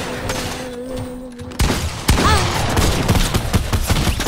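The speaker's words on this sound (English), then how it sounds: "Who's shooting me?" Gunfire in a video game: after a quieter stretch with a steady hum, a sudden loud volley erupts, keeps rattling on as continuous rapid shooting, close and dominant, with a voice faintly beneath.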